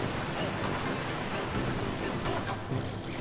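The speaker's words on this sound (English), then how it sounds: "I just covered a kid in icy rain" Icy rain brush power from the video game Okami, a steady dense hiss of falling rain that fills the whole stretch evenly with no voices over it.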